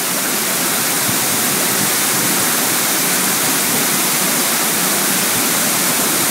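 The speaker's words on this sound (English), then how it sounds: "20, 25 mile per hour winds that are coming off the waterfall" Dense, roaring rush of Burgess Falls waterfall with strong 20–25 mph wind noise, continuous and loud with no pauses.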